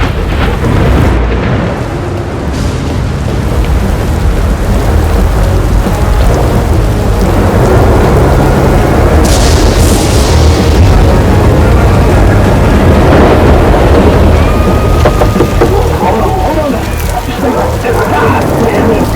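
A loud thunderstorm with heavy rain in the video game South of Midnight, a dense continuous downpour hiss with rolling thunder throughout, with voices talking under the storm.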